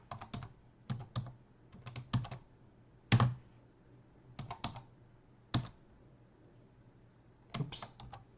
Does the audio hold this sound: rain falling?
no